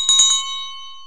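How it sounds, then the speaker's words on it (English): A bright bell in the I Spy Spooky Mansion computer game rings three quick strikes that leave a clear, ringing tone fading away alone. "A bell."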